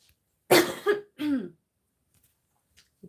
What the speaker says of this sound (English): Smoker's cough. Phlegm.